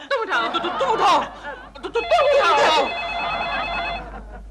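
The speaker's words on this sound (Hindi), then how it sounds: "फिर से फोन आया।" Landline telephone ringing in a flat, repeated electronic ring tones heard over a couple speaking and light laughter.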